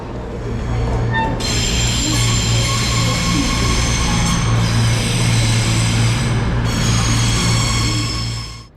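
A TransPennine Express passenger train in a station, with a steady low engine drone and high whining tones that cut in and out, loud and close, with no one talking.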